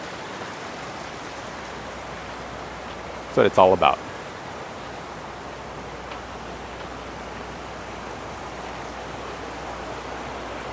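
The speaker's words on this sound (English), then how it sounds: "the waterfalls." A steady wash of rushing water from a waterfall at Whitney Portal on Mount Whitney fills the scene, constant and broad, with a short spoken phrase breaking through briefly.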